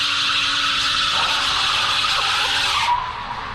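The tires of a 2022 Hyundai Kona Electric spin and squeal loudly in a sustained screech that cuts off abruptly near the end.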